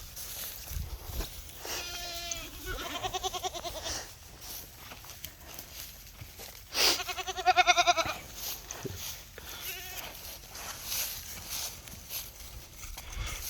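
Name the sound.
billy goats bleating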